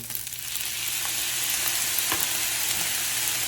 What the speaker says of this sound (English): I'm going to cook this for about a minute.